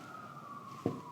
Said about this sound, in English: some siren is coming there